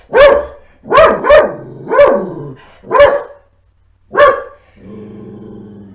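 A pet dog barks in a living room, six sharp close barks in uneven bursts, some doubled, followed by a low rumbling growl.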